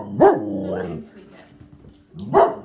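A dog barks twice during a family yoga class, one loud bark near the start and another near the end, with a softer yelp between them and faint room noise around.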